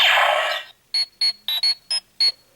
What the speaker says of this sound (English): The familiar communicator beep, of course.